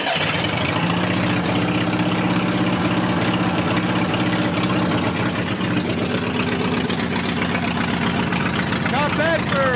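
An Onan engine with straight pipes on an OMC Mustang 330 skid loader starts and settles into a steady, loud, throbbing idle that runs the whole time. Voices talk now and then over the engine.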